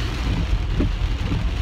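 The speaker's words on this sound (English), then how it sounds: "It just started raining." Rain falls heavily outside a car, a steady dense hiss and drumming on the roof and windows, continuous and close with no voices.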